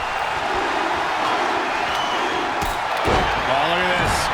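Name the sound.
crowd cheering in wrestling video game WWE 2K25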